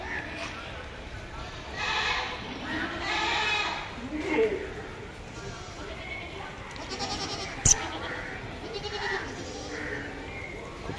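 Goats bleat amid the crowd at Deonar bakra mandi, a livestock market, with several calls rising over steady background chatter and people talking nearby.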